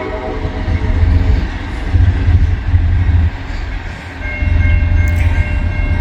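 A freight train rolls eastbound over a railroad switch, a loud, close rumble of wheels with rhythmic clunks as cars cross the points, sustained throughout with no talking.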